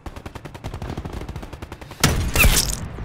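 Sniper rifle fired in the video game Black Ops 4: a sharp, loud single shot bursts out partway through, following steady rapid rhythmic game sounds, with a ringing tail afterward.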